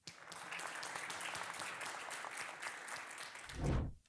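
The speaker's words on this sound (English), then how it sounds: "Round of applause." A live audience at a startup pitch event applauds, a soft sustained patter of clapping that continues evenly, then swells into a brief louder burst near the end before cutting off.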